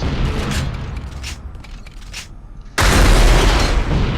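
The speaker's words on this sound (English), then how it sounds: "You can shoot 1 rocket, or 2 rockets" Rocket launcher alternate fire in a pre-alpha build of Unreal Tournament: a rushing, hissing launch sound, then a sudden loud blast that stays dense and roaring to the end.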